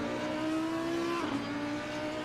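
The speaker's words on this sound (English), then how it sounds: "Listen to that engine sound of the Audi." An Audi GT3 race car in a sim racing league round, its engine giving a loud, close, steady high-pitched drone that dips briefly partway through, as if on a shift or lift, then holds again. No talk.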